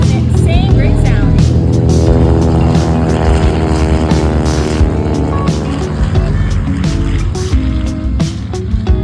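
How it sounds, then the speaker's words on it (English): TBM propeller aircraft taking off at an air show, a loud, throbbing radial engine roar with a steady pulsing beat that stays strong throughout, with people talking faintly in the background. "let's listen to the TBM takeoff, Christy."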